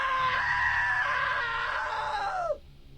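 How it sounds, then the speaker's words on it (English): A drawn-out, high-pitched scream from a video game character rings loud and steady for over two seconds, then bends downward and cuts off abruptly, leaving a quiet room tone. "Now that was a great scream"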